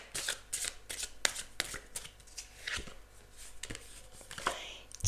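Tarot cards being shuffled by hand at close range, with soft rapid riffles and slaps in irregular bursts over a quiet background. No one speaks.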